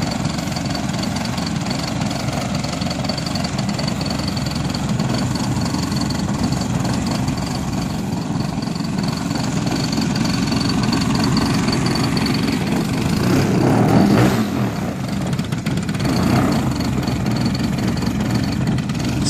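The motor of a Hyperlite Slick 540 ultralight aircraft with expansion pipes runs steadily before takeoff, a loud, continuous buzzing drone that holds nearly constant throughout with a slight swell near the middle.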